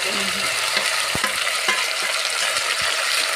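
A spoon scrapes and clinks against a pan while ripe tomatoes and other chutney ingredients are stirred together, over a steady close sizzle of frying, with a few sharp knocks and no talking.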